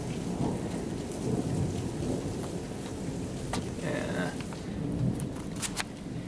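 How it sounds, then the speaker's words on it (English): A fast-moving thunderstorm brings steady heavy rain pattering on surfaces with rolling thunder rumbling beneath, dense and close throughout. "Now the good thing is it's a fast-moving storm."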